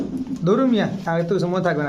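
Soft, throaty coos from Pakistani fancy pigeons such as Teddy breeds rise and fall in a few rolling phrases, close by and fairly loud, with little background noise.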